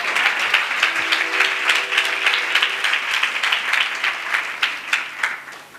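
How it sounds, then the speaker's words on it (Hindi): An audience at a church sermon claps steadily and rhythmically together, a sustained burst of applause with brief sung or spoken tones underneath. "कौन ताली बजा रही थी? जरा उसके साथ बजाओ ताली।"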